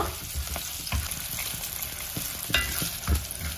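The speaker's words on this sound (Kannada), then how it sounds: "ಒಂದು ಐದು ಹಸಿರು ಮೆಣಸಿನಕಾಯಿಯನ್ನ ಕೂಡ ಸೇರಿಸ್ತಾ ಇದ್ದೀನಿ" Green chillies sizzle in hot oil alongside browning chana dal while being stirred in a pan for a kohlrabi and carrot palya, with crackling spits and occasional scraping knocks of the spatula, close and continuous.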